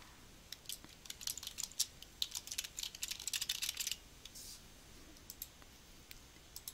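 Quick bursts of computer-keyboard typing while text is entered into an online discussion forum, with irregular clusters of close, crisp key clicks followed by quiet pauses and no talking.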